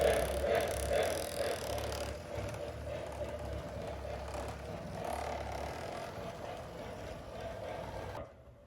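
A Lionel track-cleaning car runs with its front cleaning pad spinning on fluid-wetted track, giving a steady close mechanical whir and rattle that continues evenly for about eight seconds before cutting off abruptly.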